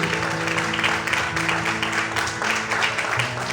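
A church congregation applauds steadily throughout, a dense wash of clapping filling the room with some low murmuring or music underneath.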